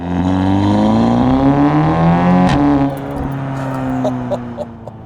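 A tuned Audi S3 with a decat downpipe revs hard, its exhaust note climbing in pitch, then easing back to a deep, steady rumble.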